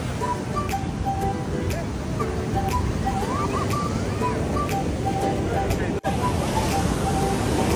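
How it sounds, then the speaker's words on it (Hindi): Ocean waves at Gopalpur beach in Odisha make a steady, loud surf roar mixed with wind buffeting the microphone. Faint voices and other beach activity sit underneath throughout. "अब यह है उड़ीसा का बीच, इंजॉय करना है।"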